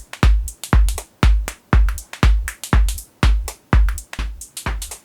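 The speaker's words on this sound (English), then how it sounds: "So you can start to hear the noise start to really come in." A drum loop run through a vocoder with a white noise carrier gives loud, evenly spaced hits, about two per second, each a thumping low punch with a hissy, noisy top, with no talk.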